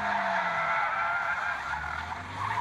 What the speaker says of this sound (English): a 2015 Mustang drift fail